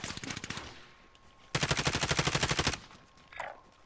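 Call of Duty Warzone gunfire: a rapid automatic burst, then a pause, then a louder, longer steady stream of evenly spaced shots lasting about a second, ending with a brief faint sound afterward.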